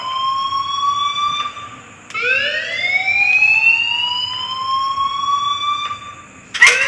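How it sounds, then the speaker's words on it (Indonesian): A fire alarm in the video game Life is Strange wails with loud rising electronic tones, repeating in long sweeping cycles with a short break and a sharp burst near the end. "please turn off that alarm since that's your job"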